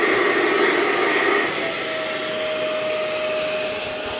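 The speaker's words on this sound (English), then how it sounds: "now that the rug has been washed with the carpet cleaner" A carpet cleaner machine runs steadily while washing a soiled living-room rug, a loud continuous motor whine and suction roar that eases slightly in level partway through, with no talk.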